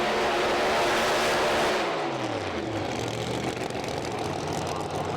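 Pro Mod Camaro drag car doing a tyre burnout at a British Drag Racing Championship round, a loud roaring engine with hissing tyre noise that drops in pitch as the revs fall away.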